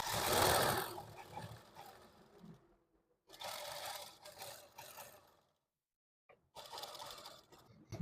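A sewing machine stitches the side seam of a suit in three bursts separated by short pauses, with a fast mechanical rattle heard close up and fairly quiet.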